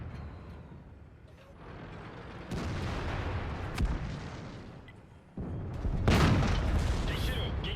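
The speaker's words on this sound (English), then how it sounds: "He put in another good shot into us." Cannon blasts in World of Tanks as an enemy T-54 tank lands a hit, several loud booming impacts separated by rumbling engine noise, with a sharp heavy strike late on and talk over the battle.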